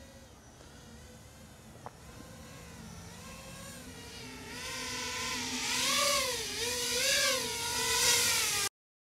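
A lightweight sub-250 g HGLRC Rekon 5 Lite 5-inch FPV drone whines overhead, its motor pitch rising and wavering louder as it swoops and comes in to land on a pad, then cutting off abruptly.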